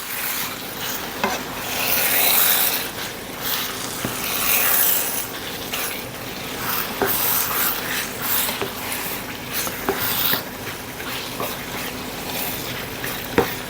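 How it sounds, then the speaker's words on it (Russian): A spoon scrapes and rubs steadily around a pot while mushroom soup ingredients are stirred, a continuous close textured swishing with faint sizzling and occasional small knocks, no talking. "Еще раз это все перемешиваем."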